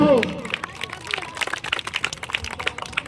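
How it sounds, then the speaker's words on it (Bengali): An audience at a children's fancy dress competition claps in a scattered, light patter of many hands, with crowd murmur beneath and a voice speaking at the start. "খুব ভালো লাগছে, হাততালি দাও।"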